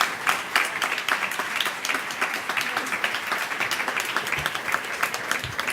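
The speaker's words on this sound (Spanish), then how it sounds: "Un aplauso." Sustained audience applause fills a forum panel on gender violence, dense and even for several seconds, with a few faint voices underneath.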